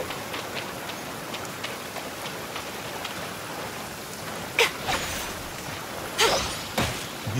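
Rain patters steadily in the game Genshin Impact, a soft continuous hiss with a few sharper splashes and taps near the end, and no voices.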